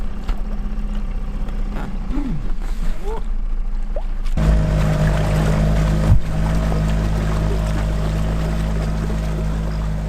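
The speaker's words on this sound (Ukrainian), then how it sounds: "Зістикували два човни і за допомогою двигуна рухались по річці" A steady motor drone with a low hum runs throughout, an outboard engine pushing two lashed-together boats along the Sula River, after a brief quieter stretch at the start.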